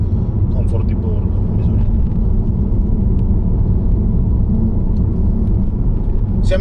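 Steady low road rumble and engine drone inside a DS4 car cabin while driving, a continuous loud hum with faint higher noise and no clear talk.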